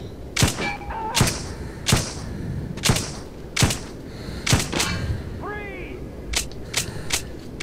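Sharp, loud gunshots from Metro 2033 fire one at a time in an uneven rhythm, about a dozen over several seconds, with a player's voice talking between them.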